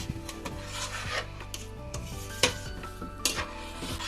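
A spoon stirs rice in a pot for ghee rice, giving rough scraping and rubbing strokes with a few sharper knocks against the pot, fairly quiet and close.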